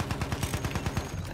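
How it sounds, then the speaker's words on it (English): Rapid automatic gunfire from the Battlefield 1 video game fires as a fast, evenly spaced string of loud, punchy shots that runs through the whole moment without a break. "Come on, boys, keep firing!"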